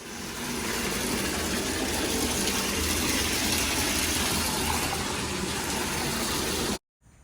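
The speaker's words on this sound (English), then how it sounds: "You want to fill up your tub maybe halfway with warm water." Warm water gushes steadily from the tap into a bathtub, filling it about halfway, a loud continuous rush that holds for several seconds and then cuts off abruptly.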